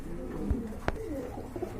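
Frillback pigeons coo softly and close by in a short, low rumble, with a brief sharp click partway through and no human voice.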